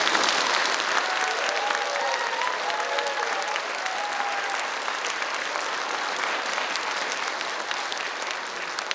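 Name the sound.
audience applause for staff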